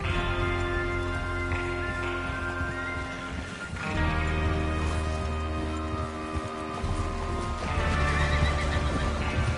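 Horses in the video game Red Dead Redemption 2 whinny and snort over a steady rumble of galloping hooves, several animals close by, with loud neighs rising at the start and end.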